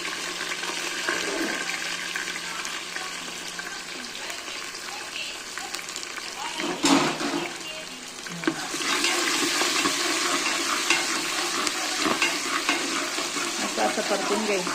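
Onions and tomatoes hitting hot oil in a frying pan for dal khichdi, a loud steady sizzle swelling after a brief clatter and running on as a broad hiss.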